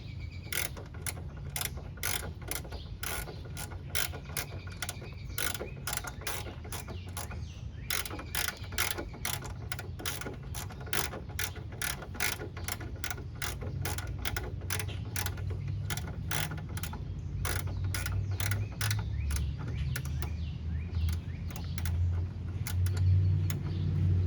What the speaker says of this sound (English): we got to finish getting this bolt out for this ground